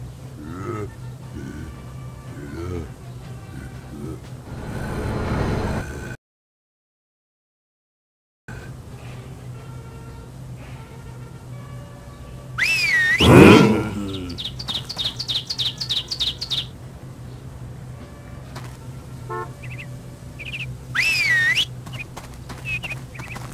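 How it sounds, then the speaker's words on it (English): Stubbs the Zombie whistles in-game, a few bright, wavering whistle bursts rising over a steady low hum and background game ambience, with a brief gap of silence early on. "Now purse those lips and whistle."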